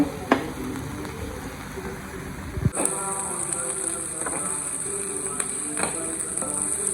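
Onions frying to light brown in a pan for a quick vegetable dish, with a soft, steady sizzle and a few faint clicks and scrapes from stirring.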